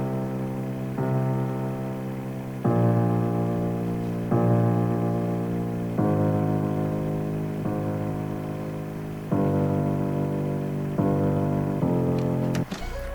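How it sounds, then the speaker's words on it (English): A dark one-shot key sound in FL Studio plays a slow melody, layered an octave down for a deep, full tone, with about eight sustained notes in a steady sequence and no voices. "one-shot sound. It's called the darkness key."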